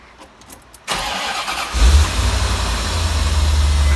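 A cold 1990 Corvette C4 engine cranks and catches, then settles into a steady, loud low idle with a deep exhaust rumble after a short quiet moment of clicks.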